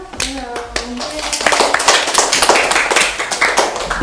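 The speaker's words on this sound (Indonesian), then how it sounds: "Tepuk tangannya lagi dong." A small group at a high school claps hands in a loose, uneven patter of sharp slaps, starting after a few spoken words and continuing at moderate loudness.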